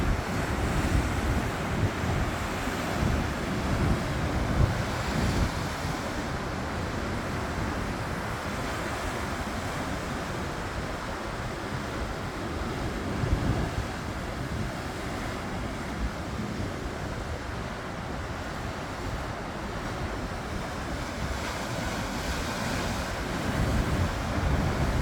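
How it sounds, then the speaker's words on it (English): Ocean surf rolls and crashes steadily against the rocky shore at Chetco Point Park in Brookings, Oregon, with strong wind buffeting the microphone throughout, a loud continuous roar with no voices. "Those waves are nasty looking."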